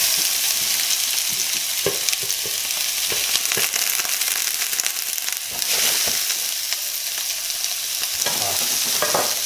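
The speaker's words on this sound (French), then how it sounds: "L'huile est bien chaude. Et je viens mettre mes poivrons," Bell peppers, garlic and yellow onion hitting very hot oil for chicken enchiladas, a loud, dense, continuous sizzle with crackling bursts and occasional stirring scrapes, close up and alone.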